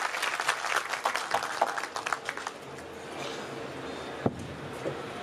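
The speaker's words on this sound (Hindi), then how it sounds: "जोरदार तालियां हों" An audience at a Millat Genuine Parts Aagahi Program claps for the marketing general manager, brisk applause that thins out and fades into a quiet room.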